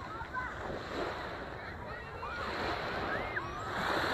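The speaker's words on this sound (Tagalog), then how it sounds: "Ang ganda ng alon, no?" Sea waves washing onto a seaside beach at night, a soft continuous surf rush with gentle swells, faint and steady under light wind.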